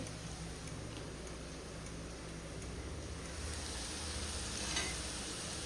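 Kolhapuri chutney goes into a hot pan and fries, giving a steady, even sizzle with a faint brief rise toward the end, soft and continuous throughout.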